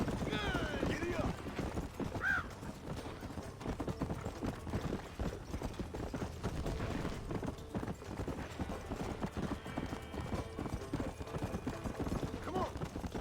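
Horse galloping in the video game Red Dead Redemption, a fast continuous clip-clop of hooves throughout with a brief whinny, while someone shouts urging commands over it.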